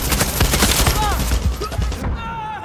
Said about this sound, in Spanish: Me están tirando de todo, pero no sé de dónde me vienen los tiros